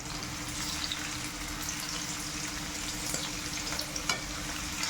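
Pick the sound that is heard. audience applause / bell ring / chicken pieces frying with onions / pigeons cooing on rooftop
chicken pieces frying with onions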